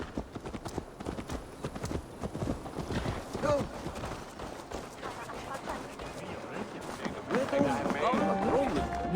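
Horse hooves clip-clop along in the Assassin's Creed game set in medieval England, a steady rhythmic trot under continuous talk and background game sound.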